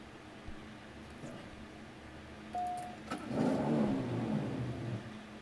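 Race cars in the mobile game CSR2 from a Ford versus Chevy event: an engine starts up and revs, climbing into a loud accelerating roar at mid distance, with no talking.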